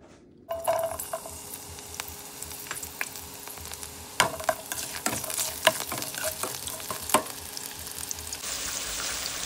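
Chopped onion fries in a pan for a rui fish curry: a steady sizzle runs throughout while a spoon scrapes and stirs in irregular clacks and scrapes, close and moderately loud, with no voices.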